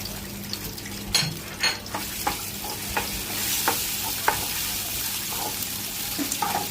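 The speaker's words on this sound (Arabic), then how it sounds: "بعد كده هنخش على الكبده، يكون السجق خلص. ننزل بالزيت" Alexandrian-style liver frying in oil in a pan, a steady hissing sizzle with a few sharp spoon clinks and stirring scrapes, close up and moderately loud.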